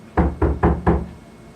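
Four firm knocks land on a door in an even rhythm, each thud close and loud, trailing off into quiet afterward, during a children's story reading about a shark.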